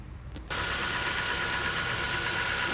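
Honda Accord 2.4L four-cylinder engine starting up and idling with a brand new Gates serpentine belt, a steady, even running hum close by that rises abruptly after a brief quiet moment and holds without talk.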